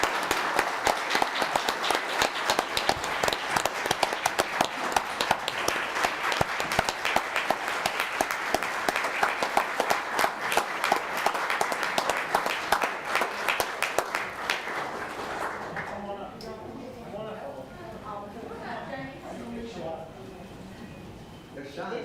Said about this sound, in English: could we give them a round of applause and have the athletes come up?